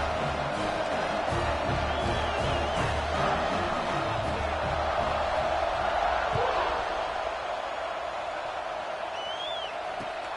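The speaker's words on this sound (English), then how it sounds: "this crowd is buzzing after that last score" A football stadium crowd buzzes after a score with a broad, continuous roar and scattered whistles and shouts, with a voice talking over it.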